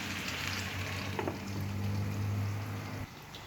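Chicken dish for bigalon (bisteu au poulet) cooking in a pan, a steady close sizzle and bubbling frying noise with a low hum underneath, continuous before easing slightly near the end.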